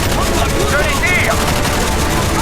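Gunfire in the Call of Duty Black Ops campaign on PC, a dense, loud, continuous burst of automatic shots over in-game noise, with a voice heard faintly underneath.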